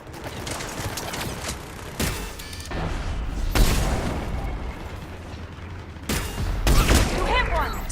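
Gunfire in the Mass Effect 3 shooter game, sharp loud bursts and volleys with mechanical weapon clatter over a battle din, with occasional squad voices.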